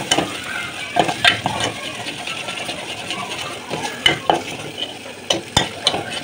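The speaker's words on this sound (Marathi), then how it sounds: "छान मसाला परतलेला आहे." Masala sizzles and crackles steadily while sautéing in a hot pan, with occasional sharp clinks and scrapes of a spoon stirring, close and fairly loud, no talking.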